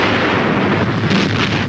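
Heavy naval guns of a fleet firing from moorings, a deep rolling boom that fills a short burst, loud and reverberant with no voices.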